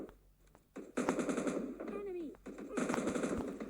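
Rapid bursts of automatic gunfire in the mobile shooter PUBG Mobile Lite, loud and dense for most of the stretch, with a brief gap in the middle and a voice speaking faintly underneath.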